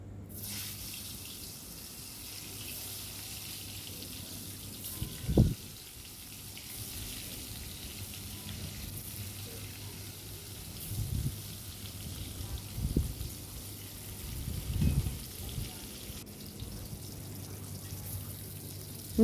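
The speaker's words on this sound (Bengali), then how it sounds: "ওই পুর ভরা উচ্ছেগুলো আমি এখন এই তেলটার মধ্যে ভেজে নেব।" Stuffed bitter gourds fry in hot oil in a wok, giving a steady broadband sizzle with a few louder crackling bursts as pieces settle, close by with no talking.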